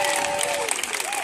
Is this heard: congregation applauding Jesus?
yes